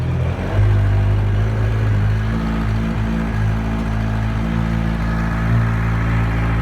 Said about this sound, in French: En général, il faut compter 4 à 5 minutes pour que le moteur chauffe.